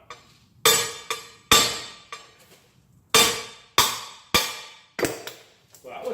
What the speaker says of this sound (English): I can hit it with a hammer without destroying the threads on the other end